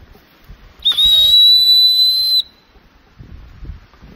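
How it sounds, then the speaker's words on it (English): A loud, sustained whistle blast on a mountain, a single steady high tone of about one and a half seconds, rising sharply out of quiet outdoor background and then cutting off. "We call out with the great whistle"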